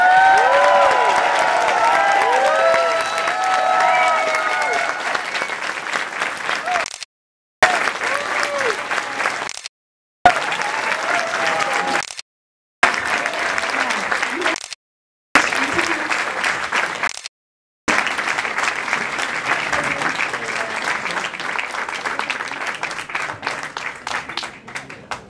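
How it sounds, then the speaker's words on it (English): Loud, sustained audience applause with some cheering at an ABBA fan convention in Roosendaal, greeting ABBA's former manager Görel Hanser, cut by several brief silent gaps, with a few faint voices underneath. "So a very, very big applause for Görel."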